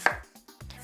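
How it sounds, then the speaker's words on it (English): A quarter of an onion is sliced with a knife, giving one crisp, close cut against a board followed by a couple of soft, faint taps. "And this, I'm just going to slice it this way."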